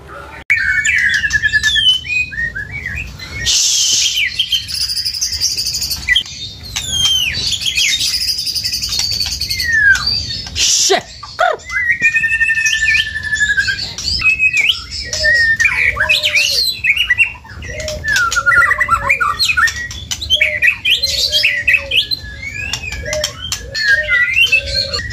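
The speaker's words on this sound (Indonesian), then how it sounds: "Sekarang kita ke burung murai batu yang mulai udah on mas ya." A white-rumped shama, or murai batu songbird, kept at a bird market sings loud and close, with varied whistled phrases, squawks and rapid chirps running almost continuously over faint insect-like background noise.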